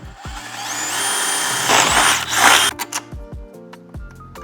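Power drill boring bolt holes in a 2019+ Mercedes Sprinter van for a door safety system, a loud close whine rising as it bites through metal, then stopping amid short clunks and pulses.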